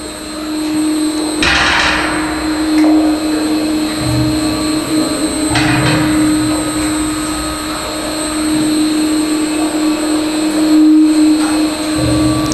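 An electric drum mixer tumbling a barrel gives off a loud, continuous mechanical hum with a steady tone, broken by a few louder rumbling clatters as the drum turns.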